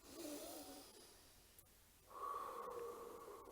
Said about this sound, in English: take a breath through your nose. And blow it out through your mouth.